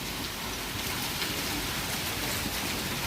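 Steady rain pours down in a dense, even hiss that fills every moment, with no voices or other sounds above it.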